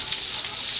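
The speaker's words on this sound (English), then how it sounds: "as the rest of the fish gets done frying up" Hot and spicy battered swai fish frying in oil, a steady close crackling sizzle with no talk.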